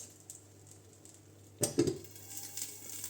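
A lid set down over a frying pan while cooking a quick breakfast, giving a short metallic clatter and knock of pot against lid partway through, with quiet kitchen ambience before and light rattling after.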